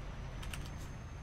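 A few quick, faint keystrokes on a computer keyboard as a chat command is entered, a short soft cluster of clicks over a quiet background.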